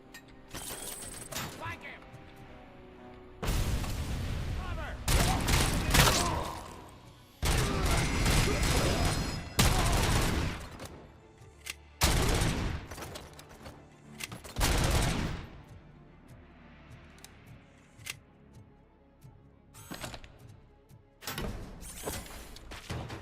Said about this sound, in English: I'm liking this pistol a lot more now that it's full auto